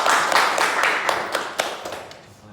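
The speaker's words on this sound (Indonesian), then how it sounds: "Beri tepuk tangan dulu." A small class in a microteaching lesson claps in a short burst of distinct, uneven handclaps that thin out and fade over about two seconds.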